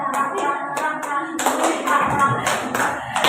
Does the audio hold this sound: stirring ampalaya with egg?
no